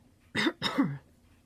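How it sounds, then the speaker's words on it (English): Two quick, close coughs in a row, short and throaty, lingering from a recent illness, against a quiet background. "sorry, I still have a little bit of cough from being sick."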